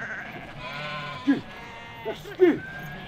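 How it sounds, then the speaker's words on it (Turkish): A few sheep bleat near a house on the Lişit plateau, three short cries rising over a quiet outdoor background, with faint talk. "onun evinin önünde koyun çekiyoruz"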